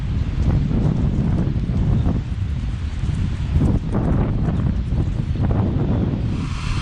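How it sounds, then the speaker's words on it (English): Strong wind buffets the microphone on an exposed hilltop along a hiking trail in Skåne, Sweden, a loud continuous roar with gusty surges throughout and no talk. "I'm not saying it's windy up here"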